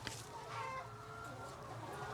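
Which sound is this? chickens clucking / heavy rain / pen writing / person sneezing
chickens clucking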